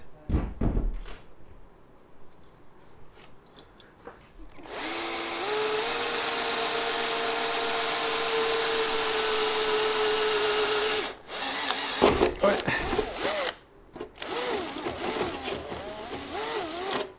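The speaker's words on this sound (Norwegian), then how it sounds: "the drill stops in something" A power drill bores into the roof of a Land Rover Discovery during a gullwing window fitting, a steady whine lasting several seconds, then stopping, followed by short bursts of drilling and clattering handling noises.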